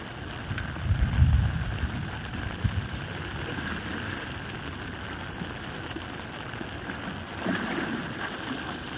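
The flooded Godavari river at Dharmapuri rushes past fast as a steady broadband roar, with gusts of wind buffeting the microphone and no voices.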